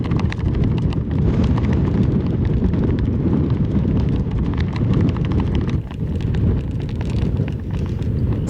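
Strong 35 mph wind on a golf course roars steadily across the microphone, a loud continuous buffeting rumble with gusty surges and no talking.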